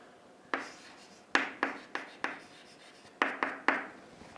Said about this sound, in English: So, first let us write down the given values.